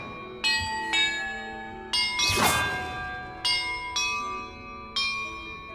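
Bells ring in Hogwarts Legacy, about seven separate clear metallic strikes at uneven intervals, each decaying slowly, with a brief noisy burst in the middle.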